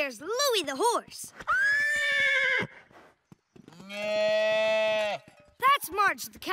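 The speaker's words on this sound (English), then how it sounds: "There's Louie the horse." A cartoon horse gives two drawn-out, high whinnies, separated by a pause, with short bursts of talking before and after.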